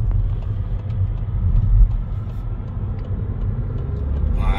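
Car slowing in town traffic during a French driving-test lesson, a steady low engine and road rumble holding throughout, fairly loud and close from inside the cabin.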